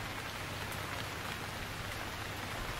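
Rain falls steadily in the survival game Stranded Deep, making a dense, even hiss of drops that stays constant and fairly loud throughout, with no other sounds.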